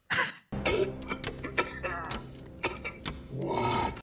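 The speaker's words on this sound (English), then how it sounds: "It's not a machine. It's coughing." A few rough coughs and throat-clearing rasps in quick succession from a Star Wars: Revenge of the Sith scene, close and fairly loud, with busy movie-style sound around them.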